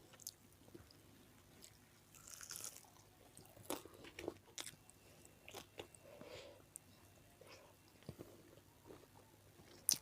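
Someone eats jengkol balado with fried chicken, close-up mukbang style, with soft wet chewing, bites and occasional crunches repeating irregularly in a quiet room.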